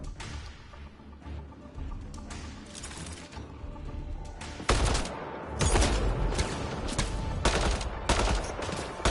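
Gunfire in the video game Mass Effect Andromeda: bursts of rapid automatic fire and sharp single shots, growing denser and louder in the second half, over a low game background.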